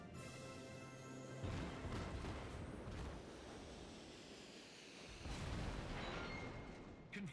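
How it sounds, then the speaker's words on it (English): A battleship in World of Warships firing all its main guns at once, a heavy rolling boom that swells, eases, then surges again, loud and full across the clip. "I'd like to shoot all my guns at once"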